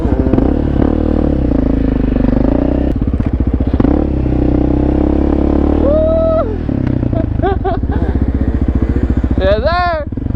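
A two-stroke dirt bike engine running loud and close, steady buzzing drone with rising revs near the end, under talking voices.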